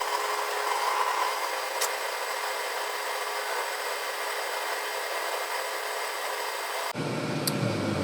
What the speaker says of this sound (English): then we'll just center drill it and drill it